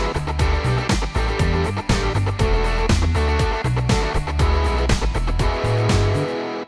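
A pop rock track plays throughout with a software-played electric bass guitar line, punchy drums and full instrumentation, loud and continuous.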